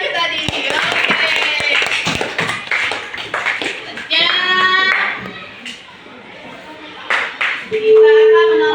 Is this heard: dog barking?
no